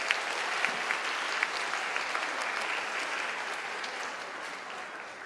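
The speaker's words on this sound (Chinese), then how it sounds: "再次给他们一个热烈的掌声" An audience at a church children's evening applauds a children's dance performance with sustained, dense clapping throughout, a few sharper claps standing out, and no voices.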